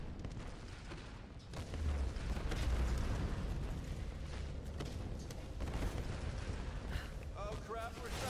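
Explosions and gunfire from the Tomb Raider 2013 video game, rumbling booms and crackling blasts under a dense mix of game sound, with voices speaking over it.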